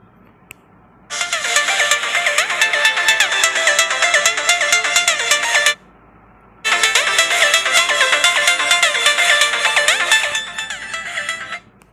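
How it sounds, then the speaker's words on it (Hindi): A music video plays loudly through a phone speaker, with two long stretches of dense, bright music separated by a short pause, close and dominant, with no talk. "ये जो म्यूज़िक वीडियो है इसे प्ले करके सुनाऊंगा"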